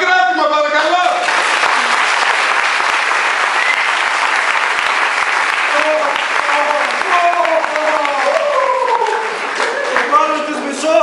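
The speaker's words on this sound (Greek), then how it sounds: "Χειροκράτημα, παρακαλώ." An audience at a university performance gives sustained, dense applause for about ten seconds, with a few voices calling out near the start and again toward the end.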